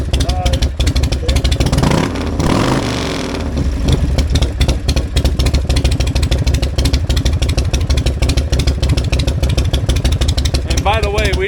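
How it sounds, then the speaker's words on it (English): Single-cam Evo motorcycle engine bored from 80 to 88 cubic inches, idling with a loud, lumpy, uneven potato-potato beat and a brief rev, close by, with someone talking over it. "this is an Evo motor that ain't an 80 cubic inch anymore"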